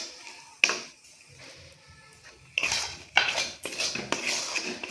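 Rice flour being mixed a little at a time into coconut in a pan, with several sharp metallic scrapes and clinks of a utensil against the pan between quieter stretches.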